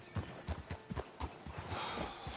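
Horse hooves clip-clop in a steady trotting rhythm in a PS4 video game, moderately loud and close, with ambient game noise beneath.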